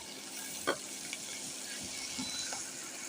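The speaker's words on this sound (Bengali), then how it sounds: "এরপরে আরও কিছুক্ষণ আমি ভেজে নিব।" Chopped carrot and tomato with a spoon of salt fry in a pan, giving a soft, steady sizzle broken by a few light stirring scrapes, fairly quiet and close.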